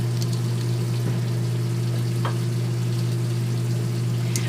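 Sliced mushrooms and yellow onion cooking in a pan: a steady, even sizzle with a constant low hum underneath, close and unbroken, no talk.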